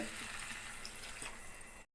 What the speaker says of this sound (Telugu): మిక్స్ చేసుకొని కొంచెం వాటర్ వేసుకుందాం. 1 గ్లాస్ వాటర్ వేసుకోండి.